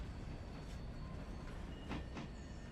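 A train in the Railroader video game pulls away, a steady low rolling rumble with faint metallic clicks and brief higher squeals, fairly quiet and continuous.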